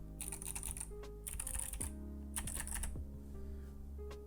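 Clicky switches on an Epomaker TH80 mechanical keyboard clatter in fast bursts of typing, sharp and close, with brief pauses between runs of keystrokes.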